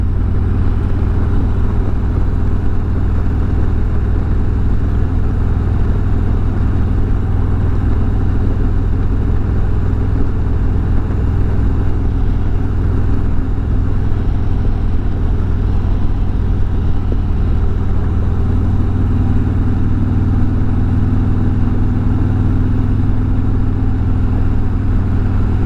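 A motorcycle engine runs steadily while riding through curving country roads in autumn foliage, a continuous low, even drone held at a constant level with no pauses.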